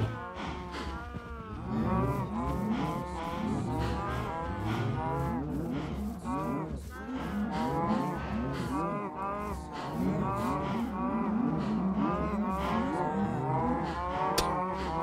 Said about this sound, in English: Moo! Moo! Moo!